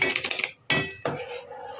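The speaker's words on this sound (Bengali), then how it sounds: "এভাবে দিয়ে কিছু সময় নাড়তে থাকবেন।" Maggi soup is stirred in a pot, a utensil clattering and scraping against the metal in a quick run of knocks followed by two sharper clanks, close and loud.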